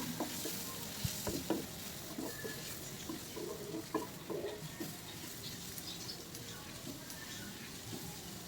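Green chillies for egg curry fry in a pan with a faint, continuous sizzle, dotted with light scrapes and clinks of stirring.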